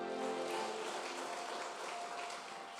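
A church congregation claps in praise, a dense continuous patter of many hands at moderate volume that eases slightly toward the end.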